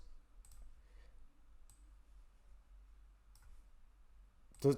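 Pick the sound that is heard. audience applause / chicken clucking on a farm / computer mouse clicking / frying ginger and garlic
computer mouse clicking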